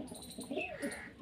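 Pigeons coo softly in a loft, with a few low burbling calls rising and falling over about a second amid faint background chirps.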